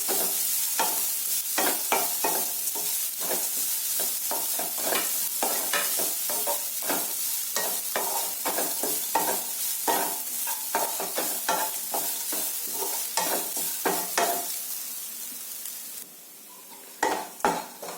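Grated coconut, garlic and pepper roasting in a pan over a low flame, with a constant gentle sizzle and rapid, rhythmic scraping of a spatula stirring throughout, close and clear with no voices.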